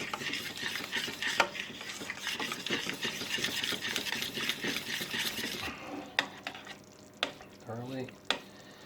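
A spoon stirs a ratatouille filling seasoned with white pepper, giving a steady close scraping and mixing for several seconds, then sparser clinks and knocks against the bowl.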